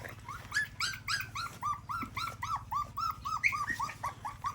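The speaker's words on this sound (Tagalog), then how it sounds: "Tumatahol agad eh." A dog with white on its paw and a brown muzzle gives a rapid run of high, yelping barks, close and steady for several seconds over a low background hum.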